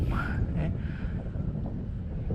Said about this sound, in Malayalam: അടിപൊളി കാറ്റ്, നല്ല തണുത്ത കാറ്റ്